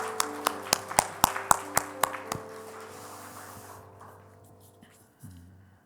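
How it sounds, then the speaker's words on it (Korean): A church congregation claps in several loud, sharp, evenly spaced beats of applause, then the claps fade into a quieter room, with a low organ-like tone sustained underneath. "우리 하나님께 영광의 박수 올려드리겠습니다."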